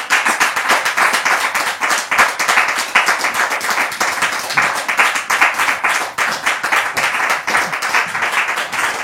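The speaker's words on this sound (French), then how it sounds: "Merci de les recevoir sous vos applaudissements" A studio audience claps to welcome a couple onto the stage of a French-language talk show: dense, loud, continuous applause that carries on for several seconds without voices.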